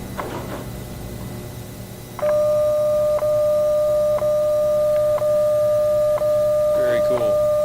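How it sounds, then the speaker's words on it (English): A 1958 recording of the National Bureau of Standards' WWV time station plays a steady tone broken by short ticks at one-second intervals, followed by a brief burst of Morse code, with a voice at the start. "but you also heard Morse code."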